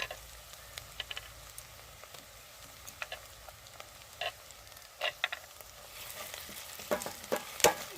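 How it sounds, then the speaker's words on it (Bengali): Ginger garlic paste hitting hot oil in a pan with lightly browned onions, giving a steady soft sizzle with scattered crackles and pops that grow louder toward the end, no voices. "এবার আমি দিয়ে দেবো আদা রসুন বাটা।"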